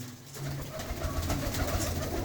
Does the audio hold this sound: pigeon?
yes